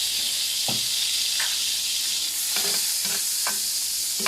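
Garlic frying in margarine with a little oil, a constant loud hiss of sizzling fat broken by a few sharp spoon scrapes and clinks against the pan, close up and with no speech.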